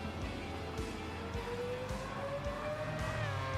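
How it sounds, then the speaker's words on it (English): Mazda race car engine in Gran Turismo 7 during an Interlagos online race, a steady rising high-pitched whine with continuous droning rumble underneath, loud and constant throughout. "I absolutely love the sound of that Mazda."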